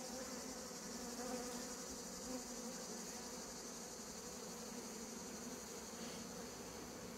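Steady insect buzzing of honeybees swarming around a traditional beehive, a dense continuous drone that holds at an even level throughout with no talking.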